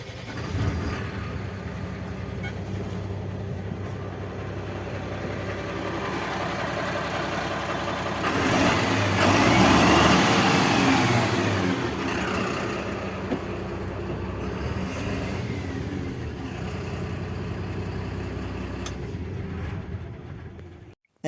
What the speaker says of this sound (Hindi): इंजन के साउंड सुनाएंगे।